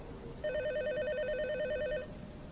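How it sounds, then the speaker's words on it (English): A telephone rings in a single warbling electronic trill lasting about a second and a half, steady and fairly clear over a low background hiss, with no voices. "a phone call came in."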